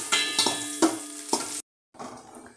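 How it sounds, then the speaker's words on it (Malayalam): Cashews frying in a pan while being stirred: crackling sizzle broken by several scraping stir strokes, then a brief silent gap before the frying resumes, close and steady. "നന്നായിട്ട് ഇളക്കി കൊടുത്ത് മൂപ്പിച്ചെടുക്കാം."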